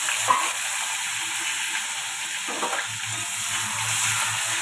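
Tomatoes fry in very hot oil for Marathi shev bhaji, producing a constant loud hissing sizzle up close with a few faint utensil taps, no voices.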